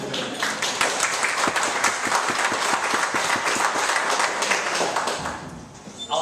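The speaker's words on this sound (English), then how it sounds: "Feel free to clap" A debate audience claps steadily and loudly, a dense continuous patter of many hands that carries on for several seconds and tapers off slightly near the end.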